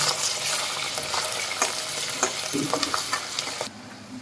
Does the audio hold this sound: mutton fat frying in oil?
yes